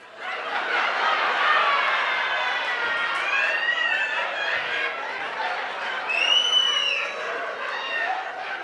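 Audience at a live comedy show breaks into sustained applause and cheering with whoops, a dense crowd roar that rises and swells around six seconds before easing off.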